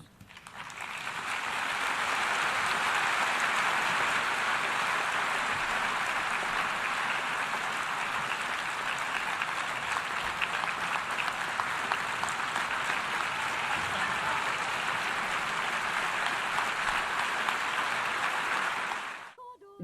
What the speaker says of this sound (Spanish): Un mensaje que saludaron con un largo aplauso